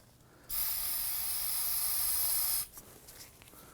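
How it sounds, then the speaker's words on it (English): An aerosol can sprays solvent onto the brake caliper boots of a 2003-2014 Volvo XC90, a single close, steady hiss lasting about two seconds in an otherwise quiet garage. "Sometimes spraying this with some solvent"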